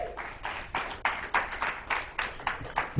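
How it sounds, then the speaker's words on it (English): Round of applause from a classroom of students, a steady patter of many hands clapping close by with rhythmic surges, lasting a few seconds with no talking. "Give her a round of applause."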